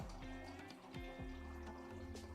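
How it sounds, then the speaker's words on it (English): A water dispenser runs a steady trickle into a 16-ounce cup, fairly close, over a low, constant musical background. "I'm going to go refill my cup of water. I have a water dispenser in here."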